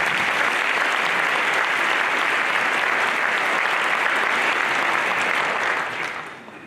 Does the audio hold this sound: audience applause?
yes